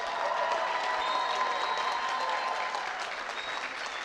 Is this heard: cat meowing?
no